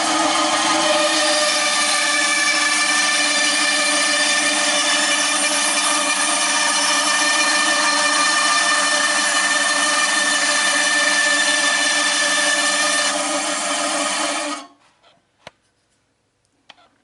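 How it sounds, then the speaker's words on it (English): A bandsaw cuts wood for a viola repair, a loud steady whining drone with a fixed pitch that holds for about fourteen seconds before the blade winds down, leaving a few faint clicks. "So I go over to the bandsaw and just cut this so it's a little high."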